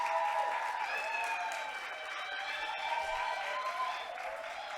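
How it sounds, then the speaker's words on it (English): An audience at a youth-led panel discussion applauds to welcome a panelist, with steady, fairly faint clapping throughout. "A round of applause for Ndilo."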